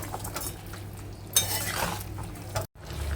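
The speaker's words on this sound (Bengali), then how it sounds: "ভালো করে মিশিয়ে নেবো" Sugar being stirred into shukto, a Bengali mixed vegetable curry, in a pot: a spoon scrapes and clinks against the metal in a steady close stirring rhythm, with one sharper knock midway.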